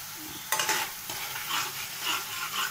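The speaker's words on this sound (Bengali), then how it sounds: "এবারে চাপা দিয়ে মশলাটা কষে নিয়ে ফিরে আসছি" A spice paste for a boal fish curry sizzles in a pan while a spatula stirs it, giving a dense, close frying hiss with sharp scraping strokes in an uneven rhythm.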